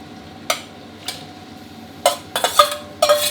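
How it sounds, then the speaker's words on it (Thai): Chicken curry made with southern Thai curry paste, coconut milk and boiled unpickled bamboo shoots being stirred in a pot, giving a few separate scrapes and clinks of the spoon against the pot, closer together toward the end, with no talking. "ใส่ลงไปเสร็จก็คนๆสักหน่อยครับ กันไม่ให้ไก่ที่เราผัดไว้มันติดก้นกระทะก้นหม้อไหม้นะครับ"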